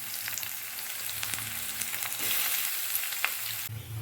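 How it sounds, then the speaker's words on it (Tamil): Sliced onions fry in hot oil, giving a continuous close sizzle with small crackles and occasional soft stirring scrapes. "இப்போ நீலவாக்கில் கட் பண்ணி வச்சுருக்க வெங்காயம் சேர்த்துடலாம்"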